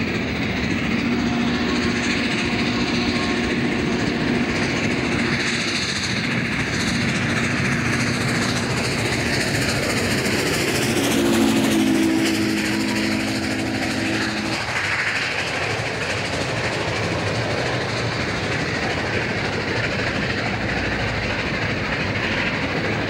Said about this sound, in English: Nearing Warner Robins, the train blasts up a hill and past the Air Force Base.